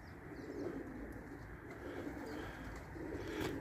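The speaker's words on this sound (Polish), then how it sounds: "Świeży gołębnik, świeży gołąb i to jeszcze z lotu, nie?" A racing pigeon in a loft just back from a flight, soft cooing under a steady hiss of background noise, a little stronger near the end.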